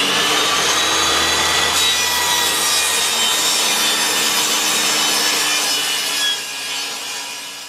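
A hand saw rips steadily through a board being cut 5 inches wide to make a homemade leather sewing clamp, with continuous rasping strokes close up, alone, easing slightly near the end.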